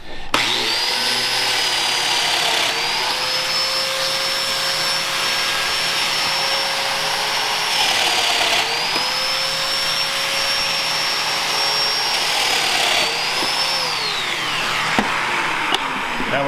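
A Festool Domino joiner plunge-cuts a mortise in wood, its motor whining steadily at close range and dipping in pitch several times as the cutter plunges in, with a small extraction-style rush underneath.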